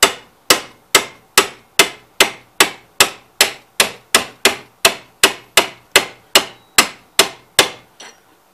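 About eighteen sharp metallic hammer blows strike a steel shaft on a 1969 Cub Cadet 126 drive clutch in a steady, even rhythm, close and loud, each ringing briefly before the next; no voices.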